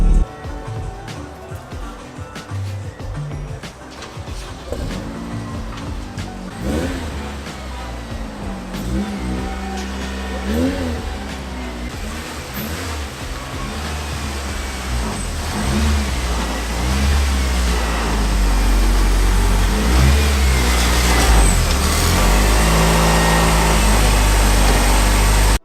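An all-motor Acura RSX engine idles with an occasional dip, then is revved in repeated rising and falling bursts that grow louder and heavier toward the end, close to the microphone.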